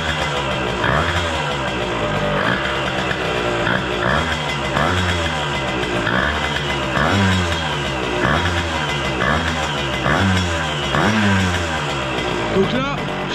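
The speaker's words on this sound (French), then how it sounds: "on va démarrer la moto pour voir si ça fonctionne" A Derbi 50cc motorcycle engine sputters to life and idles with a rapid, pulsing chug that rises and falls in regular waves, close and fairly loud.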